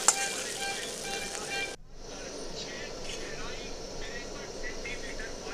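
Tarka dal poured into a hot pan of spiced egg curry, a soft sizzle that breaks off briefly and then returns as a faint hiss, with a voice speaking over it.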